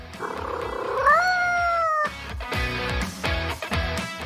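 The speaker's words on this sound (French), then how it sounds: "miaule comme pour approuver" A cat gives a drawn-out, rising meow, then a series of shorter, rougher meows and chirps follow, close and loud.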